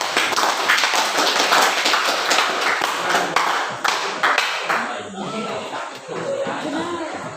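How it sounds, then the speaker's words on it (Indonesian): A classroom full of students claps for a student group, a dense and steady round of applause that fades toward the end, with some voices underneath. "beri aplaus ke kelompok 3"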